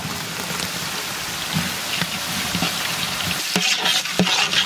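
Beans and carrots sizzle in a hot pan for fried rice, a dense crackling hiss close up, with a few sharper stirring scrapes toward the end.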